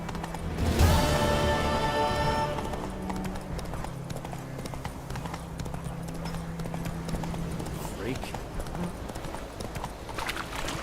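Horse hooves clip-clop steadily in The Witcher 3 video game, a continuous rhythmic trot on ground, fairly close, with a brief louder burst near the start and faint game ambience underneath.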